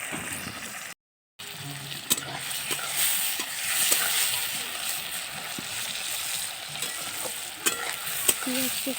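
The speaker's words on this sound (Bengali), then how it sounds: "একটু লাল লাল করে ভেজে নেব" Food sizzles in a pan while being stirred, a steady frying hiss broken by a brief gap and punctuated by scraping clinks of the utensil.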